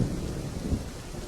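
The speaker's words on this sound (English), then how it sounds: "Oh my, what a storm. It hasn't rained this hard in a long time." A thunderstorm with heavy rain: a steady, dense roar of downpour with a low rumble of thunder swelling underneath, continuous and fairly close throughout.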